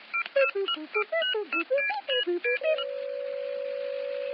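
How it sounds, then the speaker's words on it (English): Telephone number dialed as a sound effect: a quick run of about a dozen clean keypad tones of shifting pitch, then a steady ringing-style tone holding to the end, clear and alone. "take hold of your telephone, dial the number"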